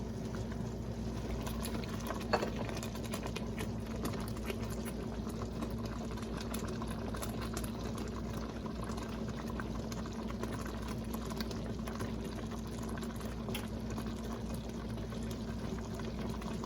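Jam jars boil in a pot of water, a steady continuous bubbling and rumbling roil that holds an even level throughout with no talk.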